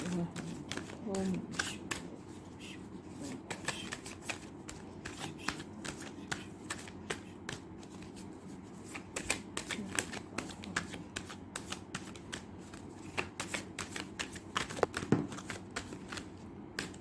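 Playing cards shuffled and dealt close by, with soft repeated riffling, flicks and slaps running through the whole stretch under a person's quiet ongoing speech.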